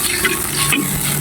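Broth with a little water simmers in a pan ahead of adding leftover fried galunggong fish, a steady close bubbling and soft sizzle with a light stirring scrape partway through, no voices.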